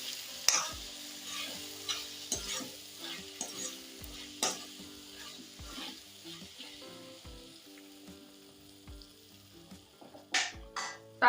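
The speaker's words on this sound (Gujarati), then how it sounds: "હવે આપણે એકવાર પાછી ચમચાથી હલાવી લઈશું." A ladle stirs spinach and potato curry in a pan, scraping in repeated strokes over a soft, steady sizzle of frying, close and alone with no voices.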